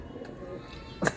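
Pigeons in a home loft give a soft, low coo, faint and brief against a quiet background, with a slightly louder burst near the end.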